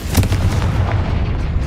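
A deep, rumbling explosion from the Confringo fire spell in the video game Hogwarts Legacy, a loud booming blast with a sustained roar that fills the short moment.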